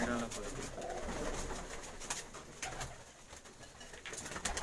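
Teddy breed pigeons coo softly in a loft, overlapping low murmurs with scattered flutter clicks, fairly faint, while someone talks quietly in between.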